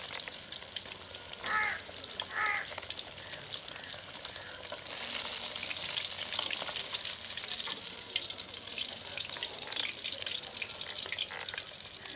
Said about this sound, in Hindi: ये पीस थोड़े से बड़े हैं, इन्हें थोड़ा सा फ्राई और कर लेंगे।